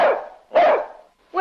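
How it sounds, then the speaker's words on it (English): A dog named Corky gives two sharp, close barks in quick succession, with the start of a third at the end, loud and unaccompanied by talk. "I haven't heard Corky bark in ages"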